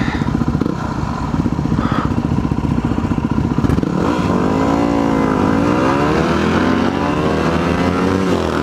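A Yamaha WR250R dual-sport motorcycle rides along, its single-cylinder engine droning loudly and steadily up close, with a rising and falling rev partway through and some clatter.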